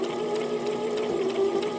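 A sewing machine stitching folded fabric, its steady close mechanical hum and rapid needle rhythm running continuously and alone.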